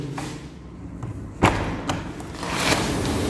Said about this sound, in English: So opening this UPVC toughened glass door